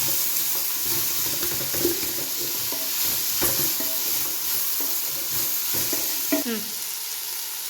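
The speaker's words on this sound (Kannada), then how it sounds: "ಆನಿಯನ್ ಫ್ರೈ ಆಗ್ತಾಯಿದೆ" Onions frying in a pan while mutton curry is prepared, a steady close sizzle with occasional spoon scrapes and stirring clatter running throughout.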